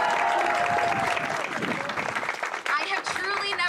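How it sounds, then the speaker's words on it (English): An audience claps and cheers for an assemblymember at a rally against a data center on Seneca Lake, with sustained applause and crowd noise throughout. "Can we give her a big round of applause?"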